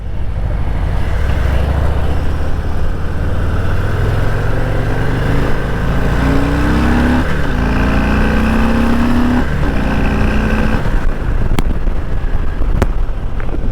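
Harley-Davidson Heritage Classic cruiser with the 114 engine on a demo ride, a steady loud low engine drone with rising pitch as it accelerates, heavily buffeted by wind noise throughout.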